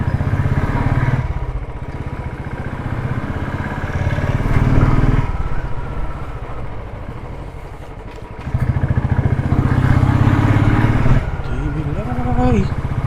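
Royal Enfield Classic BS3 motorcycle engine running with a steady, punchy low thump throughout, loud and close, swelling in places as the bike is ridden, with a voice speaking over it near the end.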